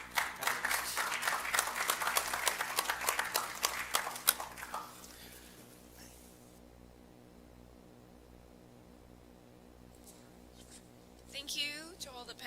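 Conference audience applause for a panel, a burst of claps lasting about five seconds. Quiet room tone with a steady low hum follows, then a brief voice and some handling noise at the end.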